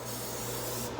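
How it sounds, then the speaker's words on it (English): Cooking oil sprayed from a can onto a pan, one steady hissing burst lasting about a second, close and loud, ending abruptly. "let's spray her down."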